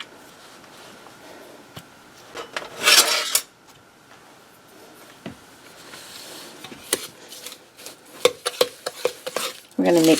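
A spoon stirs pecan pie bar batter with vanilla in a bowl, making scattered scrapes and clinks that grow busier and louder toward the end.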